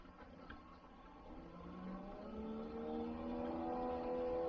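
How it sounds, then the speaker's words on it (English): A coolant pump runs in a custom Whipple supercharger cooling system, giving a steady mechanical whir with rising tonal hum that grows slightly louder over the few seconds, close by with no talking. "so we can hear the pump pumping now."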